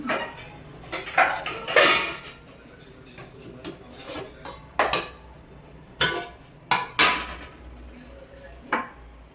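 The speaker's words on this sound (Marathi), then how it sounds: "लगेच किचन मी क्लीन करते." Dishes, pots and cutlery clatter and scrape while a home kitchen is cleaned, with a series of sharp clinks and knocks spaced irregularly, close and fairly loud over quiet background.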